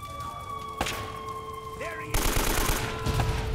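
Gunfire in the Uncharted: Drake's Fortune video game: a single sharp shot, then a burst of dense, loud rattling fire filling the second half over a steady game soundtrack.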